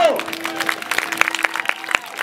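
An audience at a castle show breaks into scattered clapping, a run of sharp claps rising after a brief voice at the start.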